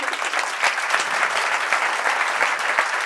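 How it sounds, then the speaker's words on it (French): An audience at an award ceremony claps steadily and densely throughout a brief burst of applause. "On va vous applaudir à nouveau."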